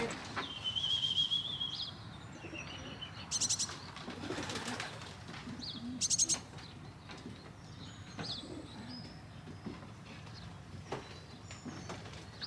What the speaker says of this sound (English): He's a cracking pigeon